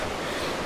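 Gray Wolf River on the Olympic Peninsula in spring, heard from its bank in a forested river bottom: a steady, loud broadband rush of flowing water that holds constant throughout.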